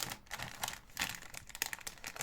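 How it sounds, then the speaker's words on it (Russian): A plastic bag of parts for a 1:35 scale Packard Twelve model kit being opened and handled, giving a continuous close crinkling and rustling with quick irregular crackles throughout and no talk. "раскроем пакет и повнимательнее все исследуем"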